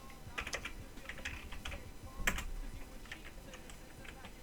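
Rapid clicking on a computer keyboard as a slash command for a Minecraft factions server plugin is typed, steady irregular key taps with one sharper clack midway, over a constant low background hum.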